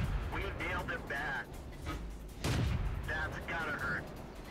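Tank cannons boom in the World of Tanks video game, several heavy shots and one louder nearby blast mixed with engine rumble, under a voice commentating.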